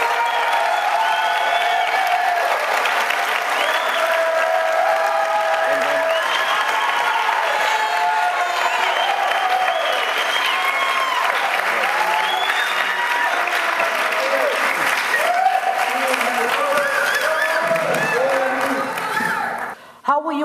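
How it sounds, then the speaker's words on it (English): Audience applause for two candidates at a congressional candidate debate in California's 34th district, a steady wash of clapping with some crowd noise and overlapping voices lasting about twenty seconds before cutting off. "Big round of applause for our two candidates"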